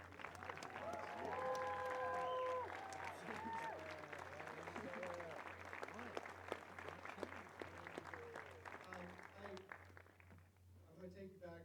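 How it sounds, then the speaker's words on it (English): A film festival audience applauds the filmmakers with steady clapping that stays full and then slowly thins toward the end, where a voice begins speaking. "Let's give you a big round of applause."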